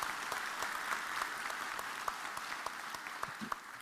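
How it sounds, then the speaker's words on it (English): A seated audience at a university president's faculty meeting claps in a steady round of applause, many hands blending into a dense, even patter with a few sharper individual claps standing out, sustained throughout with no talking. "Let's give them a round of applause and remain standing."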